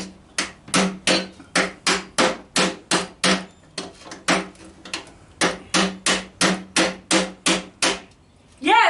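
Steady hammer blows on a coal scuttle under construction on a farm, around twenty sharp strikes in quick bursts of two to four, close and loud, with a short pause midway and no talk.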